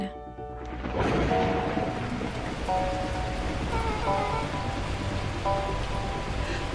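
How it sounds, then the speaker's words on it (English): Torrential rain in the video game Beacon Pines, a loud, steady downpour that rushes in after a second and continues with faint musical tones underneath. "At that moment, the heavens opened up, unleashing torrential rain."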